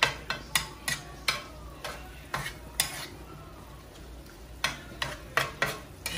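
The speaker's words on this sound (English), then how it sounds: "I'm just mixing everything together" A spoon scrapes and knocks in a rhythm as shrimp and saltfish are stirred in a pot for Jamaican seasoned rice, with a faint sizzle of frying beneath the repeated clinks.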